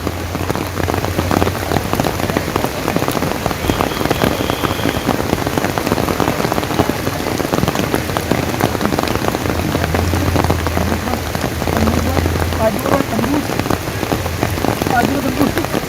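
Heavy rain pours steadily and loudly throughout, a dense continuous hiss of drops on surfaces at an outdoor bull racing event, with faint voices buried underneath.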